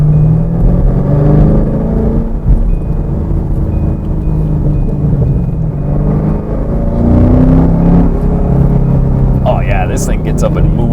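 A muscle car set to competition mode accelerates hard, its engine a loud, steady, full-throttle roar with a rising rumble that holds for several seconds, close up and dominating throughout.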